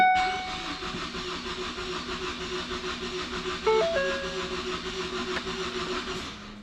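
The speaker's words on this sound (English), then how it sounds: "let's go ahead and start it. It's got a full tank of gas" A drag race car built on a $2,500 budget, with a full tank of gas, has its engine cranked and running, a steady droning hum with a brief jump in level partway through and no talking.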